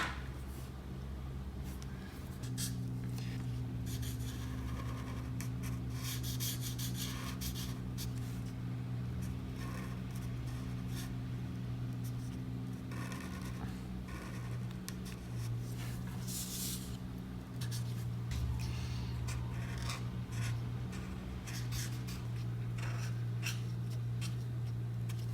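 A plum-colored marker colors in a drawing of a pink Fortnite glider on paper, producing soft, continuous scratchy strokes close up over a low steady background hum.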